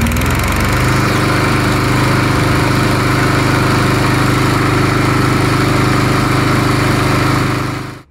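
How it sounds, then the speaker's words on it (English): A Craftsman lawn mower engine, just repaired after starting but failing to stay running, fires up and runs steadily at a loud, close, even idle with a constant droning hum, then cuts off at the end. "the engine's back up running again. The lawnmower is fully operational."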